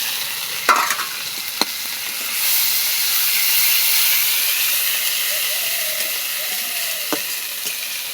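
Garlic, ginger and cumin paste fries in hot oil with spices in a Bengali home kitchen, giving a steady close hiss and sizzle that rises and spreads after a couple of seconds, with a few sharp clinks over it.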